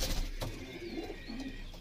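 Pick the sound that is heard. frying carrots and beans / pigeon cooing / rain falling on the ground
pigeon cooing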